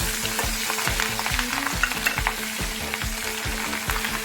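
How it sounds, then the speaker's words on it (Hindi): Green chillies fry in a pan with a steady crackling sizzle, broken by a regular rhythm of stirring strokes scraping through the oil, close and moderately loud. "अब हरी मिर्ची को भी फ्राई कर लेते हैं।"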